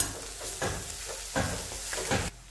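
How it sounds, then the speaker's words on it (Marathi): Ground masala paste sautéing with softened onions in a pan over lowered gas for a chickpea-greens bhaji, soft sizzling broken by several scraping stirs, close and alone. "यामध्ये वाटण टाकायचं, परतून घ्यायचं."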